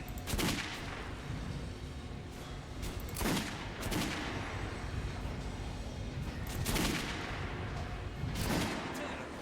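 Gunshots fired at shooting range dummies in the Metro Last Light video game, about five sharp reports spaced a second or two apart over a low, steady background at moderate volume.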